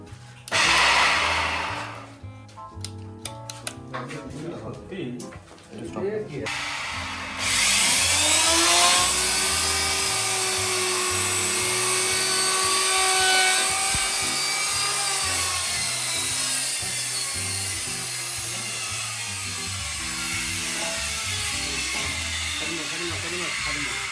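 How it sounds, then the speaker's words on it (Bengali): A uPVC surface cleaning machine runs with a loud, sustained whirring and hissing drone, preceded by a few seconds of clattering, stuttering machine noise in a workshop. "দেখুন এটা একটা সারফেস ক্লিনিং মেশিন, দেখুন কিরকম ভাবে এটা ক্লিন হচ্ছে।"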